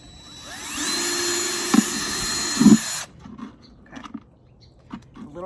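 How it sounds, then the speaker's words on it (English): A power drill bores holes through the bottom of a plant container, a steady high whine lasting about three seconds with two brief heavier bursts as the bit bites, then cutting out to quiet handling noises. "create your own holes in the bottom of a planter is to use a drill"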